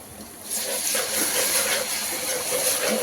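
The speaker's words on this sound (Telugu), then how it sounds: "ఉల్లిపాయ కలర్ చేంజ్ అయ్యే వరకు ఫ్రై చేసుకోవాలి." Chopped onion with ginger garlic paste fries in a pan, a steady hiss and sizzle that swells up after a quieter moment and holds loud and constant.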